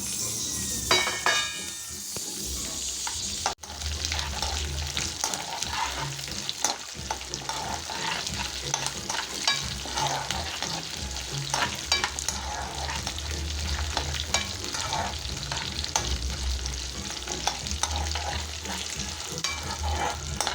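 Garlic and small onions sauté in oil over low heat, a constant soft sizzle with frequent stirring scrapes and light clinks, close and even throughout.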